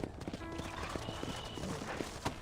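Horse hooves clip-clop steadily in Red Dead Redemption, a quick rhythmic run of hoofbeats near and clear against quiet outdoor ranch ambience.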